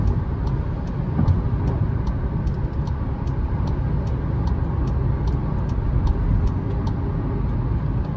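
A gasoline VW Nivus Highline 200 TSI, 2022/2023 model, drones steadily from inside the cabin with a broad, even engine and road roar and faint regular ticking on top, and no talk.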